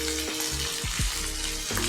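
Half-fried pieces of mutton liver, potato and onion crackle and sizzle steadily in a pan, close and loud, with a few sliding stir strokes and a faint background hum.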